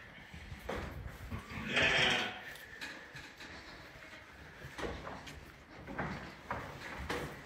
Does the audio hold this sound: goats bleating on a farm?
yes